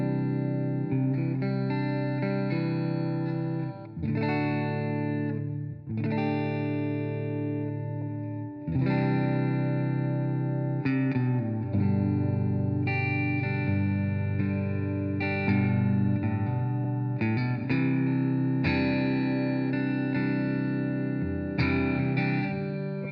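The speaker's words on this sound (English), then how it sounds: "So here is my pure clean. Modeled after a Fender Twin." Electric guitar played through a clean amp model based on a Fender Twin, sustained chords and picked notes ringing out one after another with clear harmonics, loud and steady, no voices.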